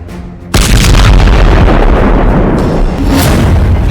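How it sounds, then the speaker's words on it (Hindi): A bomb blast in a West Bank street in Tulkarm during gunfire between Palestinian fighters and Israeli troops, erupting suddenly into a loud, sustained roaring boom that stays dense and rumbling for several seconds. "तभी एक बम फटता है।"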